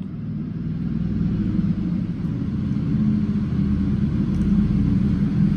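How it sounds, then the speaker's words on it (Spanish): A motorcycle passes nearby with a deep, continuous engine rumble that holds steady and swells slightly as it goes by, with no voices over it. "he oído una moto por ahí"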